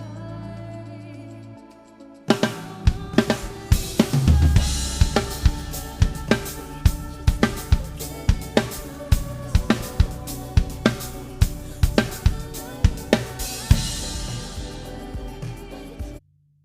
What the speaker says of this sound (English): I will play the original groove with a little snippet of the song so you can watch it and have a listen to it.